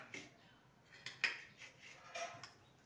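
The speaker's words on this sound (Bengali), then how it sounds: "এবার ঢাকনাটা খুলে দেখে নেব।" Metal lid lifted off a cooking pot holding a semolina and potato breakfast batter, a few faint, quick metallic clinks and taps close by.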